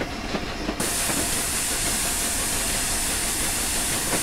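Steady, loud steam hiss and rumble from the Flying Scotsman steam locomotive in the RailWorks train simulator video game, a continuous dense roar running throughout without pauses.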